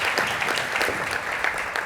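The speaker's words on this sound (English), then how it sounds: "Please give her another round of applause for our panelists." An audience at a State of Inclusion event gives the panelists a brief round of applause, a short burst of moderately loud, even clapping.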